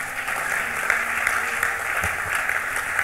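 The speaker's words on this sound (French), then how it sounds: "Acclamez la parole du Seigneur" Congregation applauding in a French-speaking church service during a sermon, steady dense clapping throughout, loud and close with a few sharper claps standing out, no talk over it.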